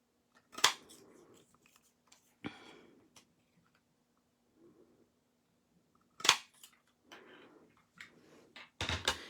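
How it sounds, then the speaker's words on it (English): A tailor tack punch cutting the ends of paper banners for handmade Christmas cards, several sharp close clicks and snaps spaced apart with rustling paper handling between them, no voices. "I'm gonna bring the tailor tack punch and we're gonna be cutting the banner ends"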